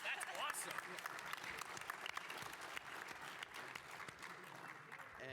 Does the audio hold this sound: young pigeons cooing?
no